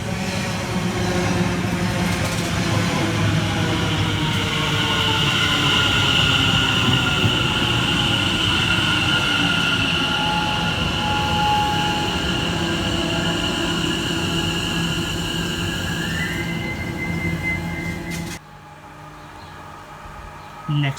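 A Greater Anglia train runs through a station on the Great Eastern Main Line, its loud rumbling and rail noise holding steady for most of the pass before dropping away abruptly near the end.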